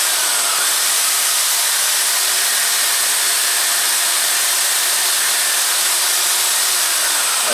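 A spinning buffing wheel used to polish antique or modern swords and knives while a stick of polishing paste is pressed against it, giving a steady, loud, unbroken whir throughout with no talk.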